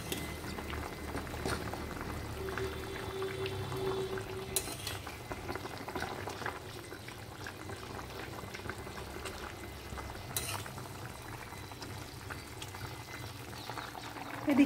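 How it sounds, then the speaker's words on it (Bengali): Raw hilsa fish curry with ridge gourd simmering at a steady boil in a pot, a continuous soft bubbling and burbling with occasional small clinks, moderately close and alone without talk. "ঝিঙেটা আর মাছটা তো একসঙ্গেই সেদ্ধ হবে।"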